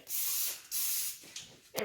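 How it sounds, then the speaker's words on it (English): Two long hissing bursts from a cooking oil spray can, close and sharp, followed by a shorter spritz, sprayed over a sink. "You just might want to spray it over the sink."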